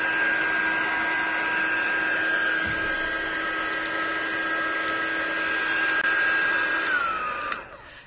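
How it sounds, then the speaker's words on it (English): A heat embossing tool blows hot air in a steady, loud whirring hum with a constant tone, running close and alone for several seconds before it abruptly switches off and winds down at the end. "when you're using a heat and emboss tool"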